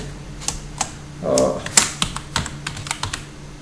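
Keystrokes on a computer keyboard while a data entry is typed into an MS Access form, a sparse run of separate taps spaced irregularly over a low room hum, with one brief burst of noise in the middle.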